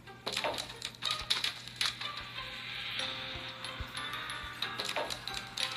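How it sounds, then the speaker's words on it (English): A computer mouse clicks repeatedly during play of the idle strategy game Castle War Idle Island, with sharp, close ticks in an irregular rhythm over quiet background hum. "So you can see I was clicking."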